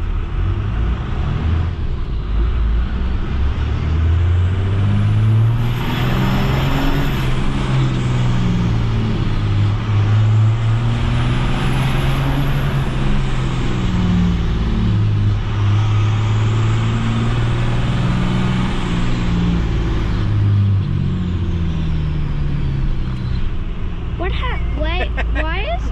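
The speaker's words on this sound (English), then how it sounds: "Functioning exhaust brake." A 12-valve diesel truck with a working exhaust brake, loud and steady throughout with a low, wavering engine drone that rises and falls in slow pulses, with brief clicking near the end.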